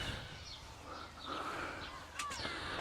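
Crows calling in a seaside garden in Morecambe, a few faint, distant caws and squawks over soft outdoor background noise, with no one speaking.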